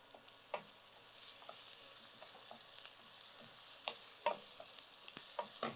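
Onions sautéing quietly in a pan for an aubergine pepper curry, a soft low sizzle with scattered light clicks and stirring taps, fairly faint and without any voices.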